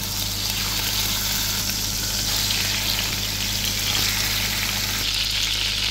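Chicken marinated with salt and black pepper fries in hot oil, a loud, dense and steady sizzle that carries evenly throughout, close up with no voices.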